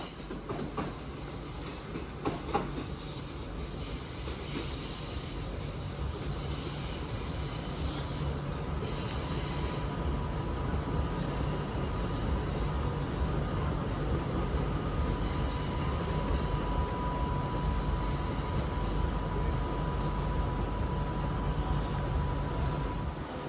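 Two Class 323 electric multiple units, 323225 and 323238, pull out of Manchester Piccadilly toward Manchester Airport, a steady rolling rumble with faint wheel squeal and rail clatter throughout, no voices.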